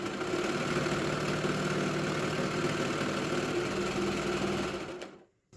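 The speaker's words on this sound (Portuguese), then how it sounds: "olha. Costurando." A straight-stitch sewing machine stitching a dog sweater, a fast, even mechanical whirring held at close range for about five seconds before it stops abruptly.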